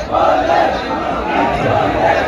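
Dense crowd of devotees queuing at a temple during Sawan Monday worship, a steady close murmur of many voices and shouts with no single speaker standing out.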